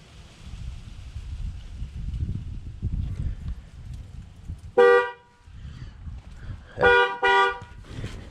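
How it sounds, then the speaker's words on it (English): Horn of a 2013 Camaro sounding after a TPMS sensor relearn: one loud honk, then two more in quick succession a couple of seconds later, heard over low engine rumble. "you'll hear 3 honks like you heard."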